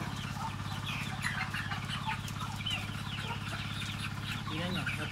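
Rhode Island Red chickens and a rooster clucking softly in a coop, a steady low murmur of fowl with occasional brief calls, while someone talks over them nearby.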